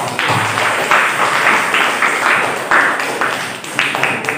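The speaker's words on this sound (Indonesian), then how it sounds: "Tepuk tangan kelompok 2." A classroom of students claps for a presenting group, a fairly loud, continuous patter of many hands that swells and dips over several seconds with a few stronger bursts.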